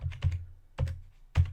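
Computer keyboard typing heard up close, three short clusters of quick key clicks with brief pauses between them, and no talking.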